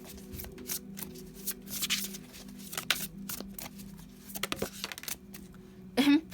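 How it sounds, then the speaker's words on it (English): Tarot cards being shuffled and handled at close range, with a steady run of soft riffling and slapping bursts and a louder flick near the end as a couple more cards are pulled. "I'll maybe pull a couple more cards or so."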